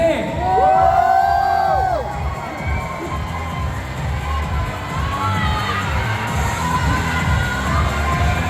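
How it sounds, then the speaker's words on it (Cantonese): An audience at a film's box-office thank-you event cheers loudly, with high whoops and shouts near the start over a sustained crowd roar that stays lively to the end. "我哋或者望一望我哋上邊嘅觀眾朋友，亦都有冇啲打氣聲嚟聽下先？"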